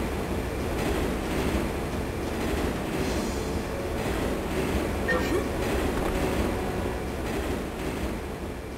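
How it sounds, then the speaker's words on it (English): A subway train rushes past in the video game Turok 3, a loud, continuous rolling rumble of rail wheels and carriages that holds steady throughout and swells slightly midway. "How many damn subway trains are on this?"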